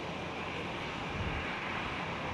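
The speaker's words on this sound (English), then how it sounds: "I do see the Indonesian government aircraft." A steady, broad roar of a jet aircraft at Schiphol airport, an Indonesian government plane, heard at a distance with wind on the microphone, constant and unbroken.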